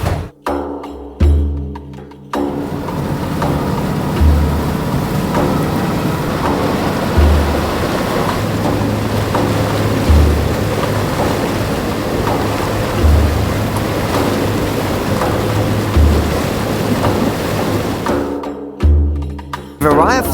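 Small boat motoring across Halong Bay toward a larger cruise ship, a steady engine drone mixed with water wash and wind rush, continuous and fairly loud, with a few dull thumps along the way.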